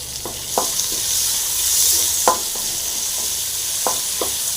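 Salted onions fry in oil in a pan for carrot poriyal, a loud steady sizzle broken by several scraping strokes of the spoon, close up with no talk.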